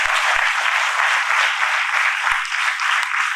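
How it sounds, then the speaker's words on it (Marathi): Steady applause from an audience at a student felicitation ceremony at a coaching class, honoring parents of successful students; dense, continuous clapping throughout with a few low thumps. "सर्वांनी या यशस्वी विद्यार्थ्यांच्या पालकांसाठी जोरात टाळ्या वाजूया"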